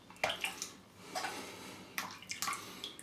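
A teaspoon of water poured into a shaving bowl of Wholly Kaw Noce Di Cocco shaving soap, a small splash followed by wet swishing and a few light drips, close and fairly quiet with no talking.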